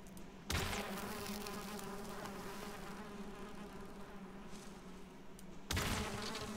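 A dense, continuous buzz of bees from a beehive inside a house in the game Valheim, close and steady, with a brief louder swell at the start and again near the end.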